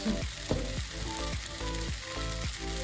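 A frying mixture seasoned with salt and pepper sizzles in a pan, a close, steady hiss and crackle with faint pulsing tones running through it and no voices.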